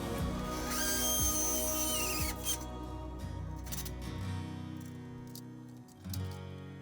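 A power drill drilling holes into a wall whines loudly at high speed, then its pitch drops as it bites and winds down, with faint clicks and thumps afterward.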